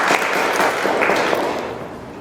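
Audience applause at a four-week diesel engine diagnostics training session for mechanics, a steady dense patter of many hands clapping close by that thins slightly toward the end.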